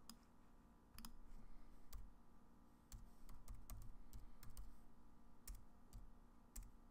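Password typed on a computer keyboard, quiet irregular clicks of keys in short bursts with brief pauses, close and faint.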